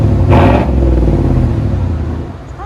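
A GMC Sierra with a 5.3L V8 and straight-pipe exhaust revs hard while parked, a loud, close, deep rumble that swells in one sharp blip and then settles into a throbbing idle.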